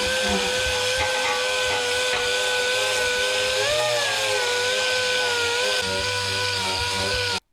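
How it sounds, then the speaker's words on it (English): A small Harbor Freight miniature dual action sander roughs up welded metal on a Mercury Sable station wagon rocker panel, a steady loud whirring drone that shifts pitch slightly and runs throughout before cutting off at the end. "now we're going to take and rough it up with this little miniature dual action sander I had bought at Harbor Freight"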